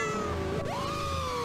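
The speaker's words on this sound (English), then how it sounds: "a brigade of cats are trying to save him" Cartoon cats in an SMG4 animation let out a couple of drawn-out meows, rising in pitch midway, close and clear with no talk over them.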